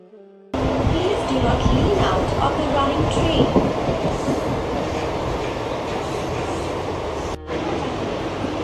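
A Mumbai local train rolls into Chinchpokli station, a loud, continuous rumble and clatter of carriages up close after a brief quiet start, with a short dip near the end as it slows.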